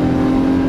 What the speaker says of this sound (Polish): Gaz podłogi.